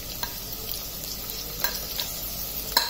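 Chopped onions frying in a pan toward golden brown for aloo gobhi masala, a soft continuous sizzle with occasional sharp stirring clicks and scrapes of the spatula.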